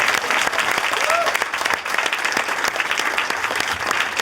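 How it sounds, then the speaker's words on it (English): Loud, steady audience applause at a live science demonstration as a young volunteer is called up, dense clapping throughout with some chatter underneath. "Give her a little round of applause."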